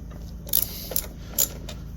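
A wrench ratchet clicks in three short bursts while loosening a nut on the terminal of a Renogy 1000 watt inverter, close and fairly quiet with no talk.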